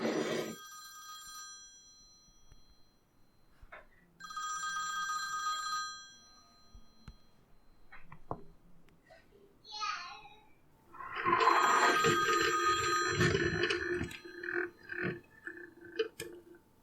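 A telephone bell rings in two loud bursts with a pause between, then a voice answers amid other speech.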